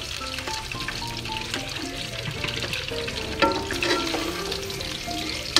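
Chicken pieces frying in hot oil until golden brown for Afghani Kabuli pulao, a steady close sizzle with occasional stirring clinks and a louder burst of crackle near the end.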